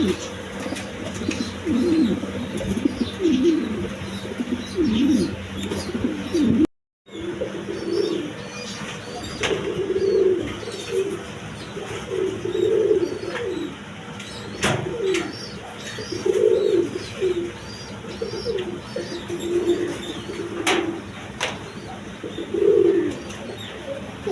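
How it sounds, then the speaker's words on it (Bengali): A large pigeon kept for sale coos repeatedly in low, rolling phrases, fairly close, over a faint steady background hum, with a brief dropout partway through. "এই কবুতরটা খুব ডাকা ডাকতেছে"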